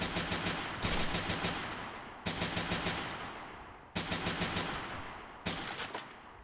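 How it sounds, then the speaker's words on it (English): Bursts of Type 100 SMG fire in a WW2 fort-siege battle game come in four rapid, close, loud strings of shots, each followed by a decaying echo tail, with no talk. "I hear that Type 100 SMG thing"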